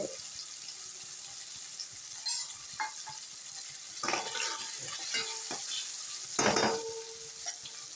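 Food sautés in a pan with a steady low sizzle, and a utensil stirring it makes occasional scrapes and knocks. The sound is close and moderately quiet, with no talk.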